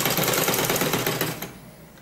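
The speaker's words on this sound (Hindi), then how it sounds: "मैं सिलाई लगा रही हूँ।" Sewing machine stitching the side slit of a kameez with double thread, a fast close rattling run of needle strokes that stops abruptly after about a second and a half.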